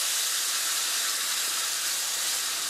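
Cold water is poured into a hot pan of golden fried flour roux, producing a steady loud sizzling hiss with no talk over it.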